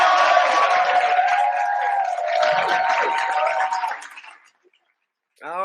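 Canned applause and cheering plays as a podcast sound effect, with a crowd roar that swells and then fades to silence before a brief voice comes in at the end.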